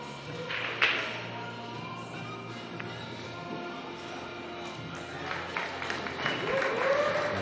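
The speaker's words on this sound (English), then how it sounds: "He's getting a round of applause to signify that he did in fact hook him behind the seven." Scattered, fairly faint applause from the crowd at a pool match between Jayson Shaw and Judd Trump at the 2021 US Open Pool Championship, with a few sharper claps and taps over a quiet room murmur.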